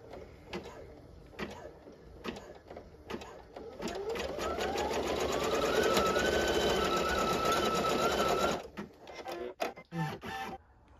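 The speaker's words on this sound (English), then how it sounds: "I'm just going to lower the presser foot, wait for the green light, and click start" An embroidery machine stitches an in-the-hoop school bus snap tab with rapid mechanical ticking that builds to a steady whirring run, then slows into clicks and stops.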